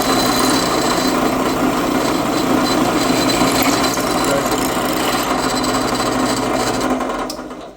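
A drill bit bores into a steel vehicle drive shaft, giving a loud, steady grinding whine that holds for several seconds before cutting off at the end.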